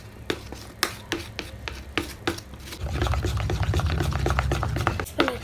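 Paint is stirred into glue for homemade slime, giving soft wet rubbing and scraping strokes, sharp clicks at first, then a steadier sticky churning, close and fairly quiet with no talk.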